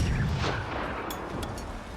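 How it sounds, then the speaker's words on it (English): Rockets fired at a robot in the Generation Zero video game, a dense rumbling blast with booming low end and crackling debris that fills the whole moment, loud and close with no talking. "it was a lot more fun to just quickly lay into this thing with rockets"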